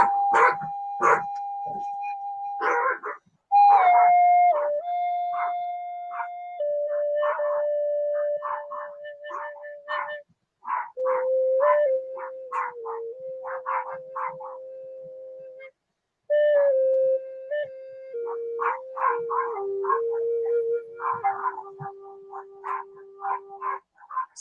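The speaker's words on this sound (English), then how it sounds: "Sorry about the dogs." Dogs bark and howl in a home, sharp repeated barks punctuating long wavering howl-like tones that rise and fall, moderately loud and close, continuing over most of the stretch with brief pauses.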